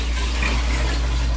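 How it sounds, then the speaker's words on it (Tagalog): Mineral water pours steadily into a large container for a 10-liter batch of lemonade, a constant close, full gushing rush with no break. "lagyan na natin ng mineral na tubig"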